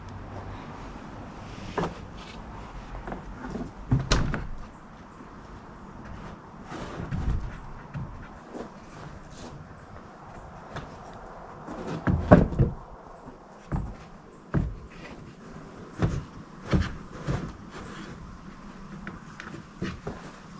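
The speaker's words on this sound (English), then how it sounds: "I'm going to hang this door, put a spacer on the ground there" A heavy shop door is hung over a dirt floor, with scattered wooden knocks, thuds and scrapes at irregular intervals as it is shifted and set on a spacer.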